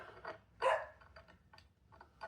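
Several dogs bark in short, scattered yaps at a distance, one louder bark standing out among fainter ones, with no talking.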